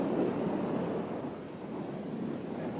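Gusty wind roars steadily across a small boat moving through mangroves at about 10 knots, a broad rushing buffet against the microphone that swells and eases without pause, with no talk over it.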